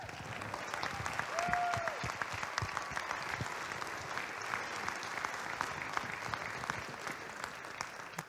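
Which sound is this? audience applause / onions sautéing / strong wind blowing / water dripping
audience applause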